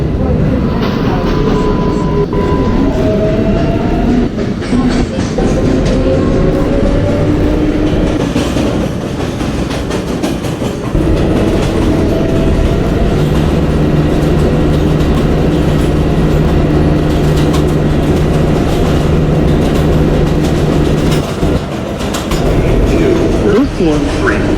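Roblox subway train on the 7 Flushing Line, running with a steady loud rumble, clicking wheels and rising and falling motor tones throughout, while an onboard voice speaks at times.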